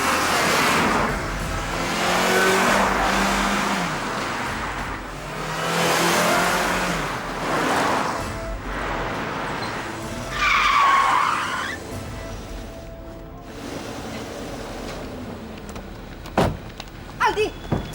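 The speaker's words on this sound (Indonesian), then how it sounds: "Mobilnya Aldi aja tuh yang udah kayak kesetanan bawanya." A car driven fast and recklessly, its engine revving hard in surging waves with tires skidding and a brief squeal near the middle, followed by a few sharp thunks at the end.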